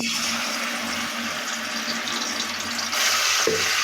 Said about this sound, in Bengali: এবার দিয়ে দিই তেলের ভিতরে